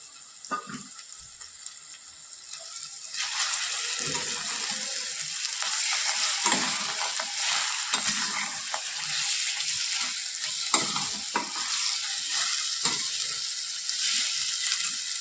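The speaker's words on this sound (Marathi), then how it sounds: "आता यानंतर आपण जे वांग्याचे काप स्मॅश करून घेतले होते ते आपण यात टाकून घेतोय." Smashed eggplant slices stirred into spices frying in a pan, a steady crackling sizzle with scraping stir strokes, close and moderately loud, no talk.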